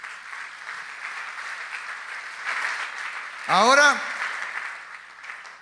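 A church congregation applauds in a sustained, moderately distant patter of clapping, while a voice speaks briefly over it partway through.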